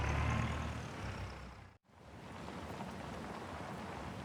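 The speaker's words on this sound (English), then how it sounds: "It's doesn't look like the rain is going to be stopping anytime soon" Rain falls steadily outdoors on a country park farm during hay work, a continuous dense hiss of drops on surfaces, with a brief dip in the middle before the downpour resumes just as strong.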